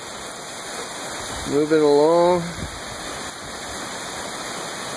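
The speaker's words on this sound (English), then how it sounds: "So it's taking the water off the driveway pretty well." Steady rush of rainwater running off a driveway into a newly installed drainage system, a continuous wash of noise, with someone briefly speaking over it.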